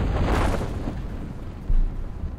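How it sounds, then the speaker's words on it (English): A rocket launch failure explosion in Kerbal Space Program booms and rumbles as a dense, low roar that stays heavy throughout, with a fresh thud near the end. "I just wanted to show this launch failure."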